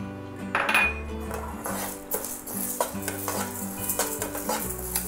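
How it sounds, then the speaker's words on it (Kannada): Urad dal is tipped into a hot pan for dry coconut chutney powder and stirred with a metal spoon, giving repeated scraping clinks against the pan over a soft sizzle, close and without voices. "ಉದ್ದಿನ ಬೇಳೆ ಹಾಕ್ತಾ ಇದ್ದೀನಿ."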